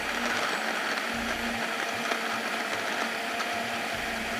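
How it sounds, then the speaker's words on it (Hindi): A blender whirs steadily up close, mixing cinnamon roll ingredients with ice, a continuous grinding drone with faint rattling from the ice chunks. "अच्छी तरह से आपने इसको ब्लेंड करना है"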